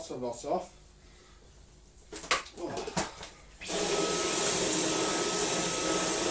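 A Dyson vacuum cleaner starts up on demonstration carpet after some quiet handling noises and a few knocks, then runs as a loud, steady, close roar to the end.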